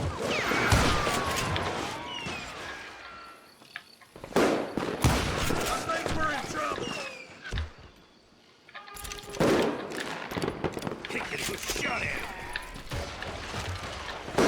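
Gunfire in the western shooter Call of Juarez Gunslinger, rapid bursts of sharp shots and clattering mechanical clicks in two dense volleys separated by a brief lull, with voices shouting in between.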